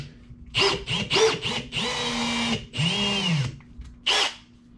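A power drill fitted with a 1/4 inch bit bores into a toolbox case in several short, loud whining bursts with pauses between, ending in a final brief burst.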